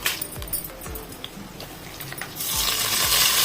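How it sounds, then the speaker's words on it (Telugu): Mustard seeds, cumin, chana dal and urad dal hitting hot oil in a pan for a tempering, with scattered crackles and light clinks before the sizzle swells into a steady, louder hiss toward the end. "ఆయిల్ వేడికిన తర్వాత ఆవాలు, జీలకర్ర, శనగపప్పు, మినపప్పు అన్నీ కలిపి పెట్టుకుని తాలింపు గింజలు"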